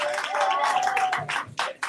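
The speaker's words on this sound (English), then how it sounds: "Let's give a round of applause to the Doc Bookshop" Audience clapping at a candidate forum held in a bookshop, a dense burst of hand claps filling the short moment and thinning out unevenly toward the end.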